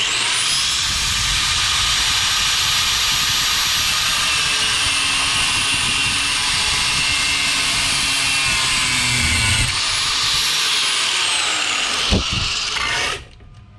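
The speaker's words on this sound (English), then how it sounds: "Here's our handy cutoff wheel." A cutoff wheel slices through a bolt held in a C-clamp on a bench, a loud, continuous high-pitched whine and grinding screech that holds steady for many seconds, briefly dips, then resumes before winding down at the end.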